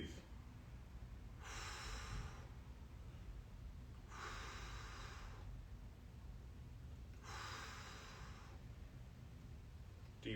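Deep breathing during a stick mobility workout class: three slow, loud, breathy exhales spaced a few seconds apart over a steady background hiss.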